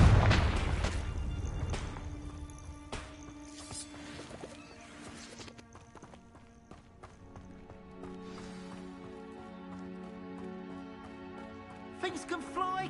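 A Confringo blasting curse explosion in a Harry Potter video game, one heavy booming blast at the start that decays into scattered clattering debris and softer thuds and pops.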